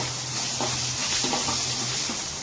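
Tempering seeds, dried red chillies and onion frying in hot oil give off a loud, close, continuous sizzle with faint stirring scrapes underneath.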